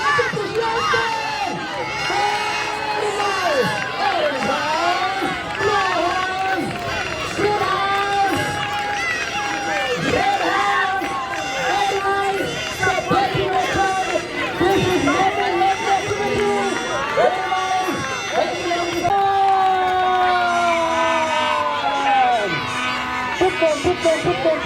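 Children's crowd at a kids' crafting game show cheering and shouting for competing teams, a loud continuous roar of excited voices with whoops, a host calling out over the noise, and music running underneath throughout.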